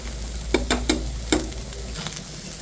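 Vegetables and small fish frying in a pan for a potato and mixed vegetable chorchori, a steady close sizzle broken by a few quick scraping stirs early on, then settling to a quieter hiss.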